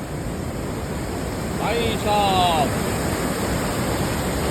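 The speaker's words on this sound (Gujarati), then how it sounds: "વરસાદ જુઓ જરા, કેટલી નદી હાલી ગઈ છે ભાઈ." A rain-swollen river rushes during heavy rain on the Harishchandragad trek in Maharashtra, a loud continuous roar of water and rain close by, with someone briefly speaking over it.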